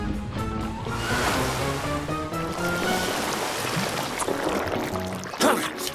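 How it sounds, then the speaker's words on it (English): Cartoon water spray blasting slime off a car, heard as a loud, continuous rushing and splashing hiss with a busy musical bed underneath, ending in a short burst. "Morphle, spray their slime away with your water."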